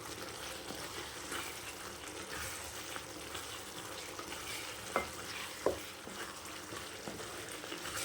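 Fried broccoli stirred in a pan for a broccoli, peas and potato gravy, giving a steady soft sizzle and scraping with two sharper clinks of the utensil near the middle, no talking.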